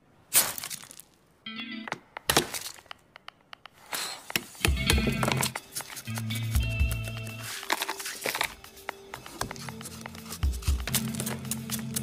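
Ice block carved by hand with chisels, giving sharp cracking chips and scraping knocks in irregular bursts, with pauses between, over low background sound.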